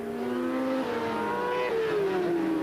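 Racing motorcycles at Cadwell Park in a 1991 race, including the Team Green Kawasaki, wail steadily nearby with rising and falling engine pitch as they shift and pass, loud and continuous with no talk.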